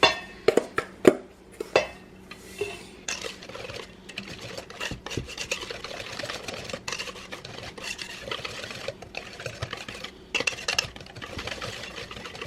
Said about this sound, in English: now we're just gonna mix our wet and dry